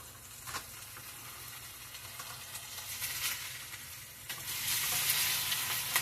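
Hamburger patties frying in a pan give a steady, close sizzle with faint crackles and scraping stir noises throughout, swelling louder near the end, with no talking.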